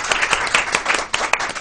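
Short burst of audience applause at a televised talk, crisp individual claps layered into a lively, uneven patter over less than two seconds.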